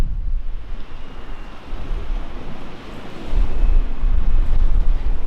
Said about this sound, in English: It's just gentle lapping of the shore.